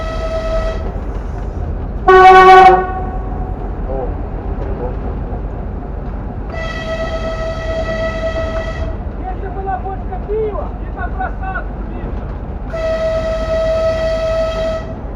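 A children's railway train in Kyiv sounds its horn in repeated tonal blasts, one short and loud, then longer toots, over steady running rumble, with faint voices in the background.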